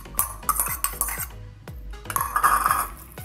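Chopped large onion tipped into a bowl and mixed for chicken momo filling, giving a run of close clinks and scrapes of a utensil against the bowl, with several sharp knocks and steady stirring in between.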